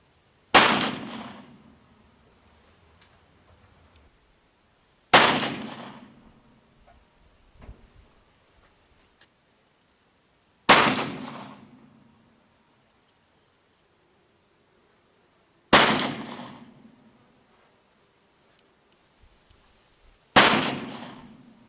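Uberti Walker revolver fitted with a conversion cylinder firing 230 grain loads outdoors, five loud single gunshots spaced about five seconds apart, each with a short decaying echo.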